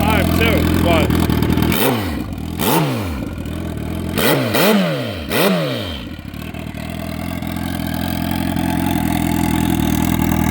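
A turbocharged Suzuki Hayabusa motorcycle engine idles smoothly and is blipped several times in quick succession, each rev swelling and dropping back, then a steady even idle continues.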